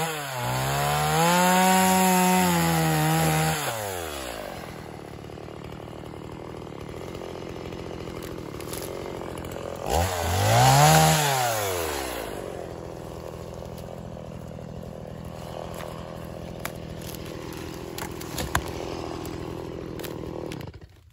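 A chainsaw cuts up a log too big to haul during homestead land clearing, revving loudly with rising and falling pitch for about four seconds, then idling and running steadily, with a second hard cutting surge midway.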